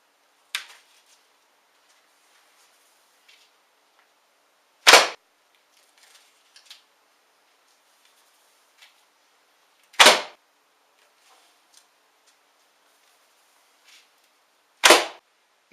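An English wooden longbow shot indoors: three sharp, loud string releases spaced about five seconds apart, each a crisp snap with a brief decay, separated by near silence with a few faint ticks and handling sounds.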